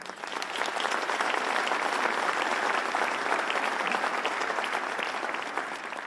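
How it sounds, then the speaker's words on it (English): An audience gives the sponsors of a 9/11 Victims Compensation Fund honors event a sustained, full round of applause, thick and even throughout, tapering slightly at the end. "give a resounding round of applause to all the sponsors of today's event"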